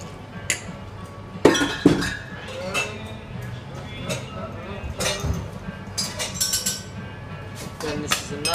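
A tequila cocktail is stirred with ice in a glass at a bar, producing repeated bright clinks and rattles of ice against glass under steady conversation.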